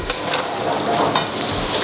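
Four large chopped onions sauté with carrot and beans in a pan, giving a brief, steady close sizzle with scraping stir sounds.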